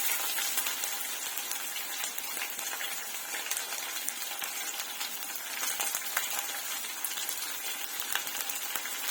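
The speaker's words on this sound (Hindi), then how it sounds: "और अभी मैं डाल दूंगी इसमें प्याज, 2 छोटे छोटे प्याज थे।" Small onions added to a hot pan with cumin and chillies, a steady loud sizzle and frying crackle with scattered spoon scrapes and clicks throughout, no voices.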